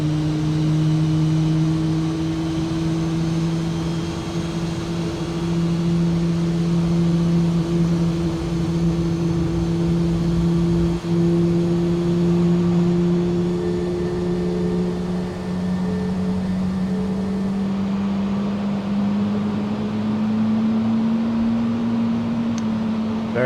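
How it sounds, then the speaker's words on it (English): FlyByWire A32NX airliner engines running in Microsoft Flight Simulator, a loud steady turbine whine and hum that rise slowly in pitch as the second engine spools up, with no talk. "Just wait for the second engine to come online now."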